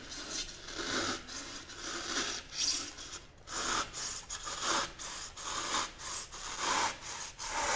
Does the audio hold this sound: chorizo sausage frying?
no